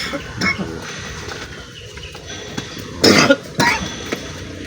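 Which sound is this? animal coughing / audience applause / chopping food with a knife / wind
animal coughing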